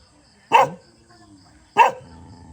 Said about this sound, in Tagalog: Oh, may bantay na aso, oh.